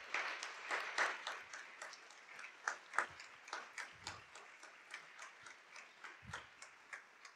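An audience at an author's conversation event claps for a translator. Fairly soft, distinct claps land in a loose, steady rhythm, with no talking over them.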